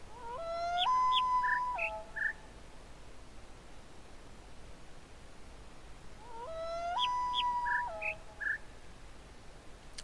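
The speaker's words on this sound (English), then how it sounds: "Well, the bird has five sounds." A synthetic bird call from the puzzle video game The Witness, a short melodic phrase of chirping notes, plays twice about six seconds apart. It is soft against quiet background noise.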